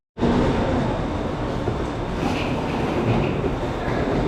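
Subway train noise at a station in Fukuoka, a steady broadband rumble and rolling hum that stays loud and continuous throughout with no pauses.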